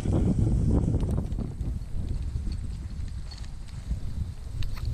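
Several horses walk outdoors, their hooves clip-clopping in an irregular, overlapping rhythm close by over a broad low rumble of movement and light wind.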